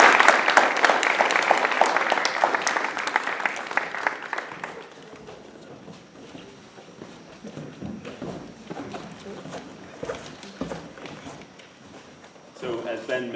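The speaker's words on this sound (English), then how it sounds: "I give you a round of applause" Audience applause at a senior graduation ceremony, loud at first and then fading into scattered clapping and room murmur, with a brief swell again at the end.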